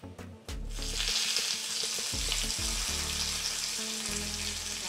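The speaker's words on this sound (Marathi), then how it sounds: "तर हा तडका आपण चटणीवर टाकणार आहे" A tempering of mustard seeds, cumin, asafoetida, curry leaves and a red chili sizzles and crackles loudly in hot oil for chutney, a steady, dense frying hiss following a brief clatter at the start, with no voices.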